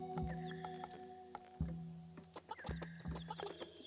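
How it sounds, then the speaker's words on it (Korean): A chicken clucks several times in short, faint bursts against a quiet background of soft game music, with no talking. "아 닭이었어?"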